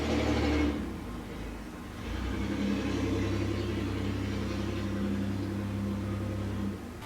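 A truck engine rumbles past, loud at first, dipping briefly, then holding a steady low drone before fading slightly at the end, with no talking.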